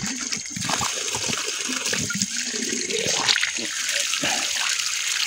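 Water gushing steadily from a pressurized village tap in rural Nepal, a continuous close splashing rush with voices talking intermittently over it.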